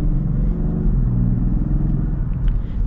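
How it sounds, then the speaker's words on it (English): A 2024 Land Rover Defender 110 X-Dynamic accelerates at part throttle. Heard from inside the cabin, its engine gives a smooth, steady low rumble and drone with no talking over it. "And got our little acceleration here."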